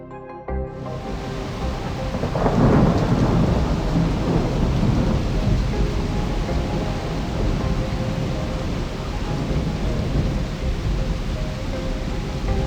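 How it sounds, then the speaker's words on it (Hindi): A heavy downpour with strong winds roars steadily while a deep rumble of thunder rolls in early and lingers beneath the constant hiss of rain. "बाहर तेज हवाएं, मूसलाधार बारिश और बिजली की कड़क डर का माहौल बना रही थी।"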